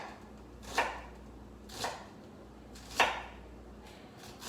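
A knife thinly slices mushrooms on a cutting board for a stroganoff, with about five crisp, evenly spaced cuts landing close and distinct over a quiet room.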